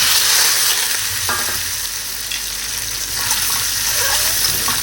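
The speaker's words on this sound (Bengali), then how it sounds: "ডিমটা ভেজে নিচ্ছি" An egg fries in hot oil seasoned with turmeric, giving a steady, close, even sizzle that runs the whole time with no talk.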